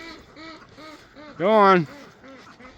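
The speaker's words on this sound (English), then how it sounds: "Come on, little white duck. Follow the ducks." Ducks quack softly and repeatedly in a barnyard, with one louder, nasal honking quack standing out in the middle, while a person speaks briefly nearby.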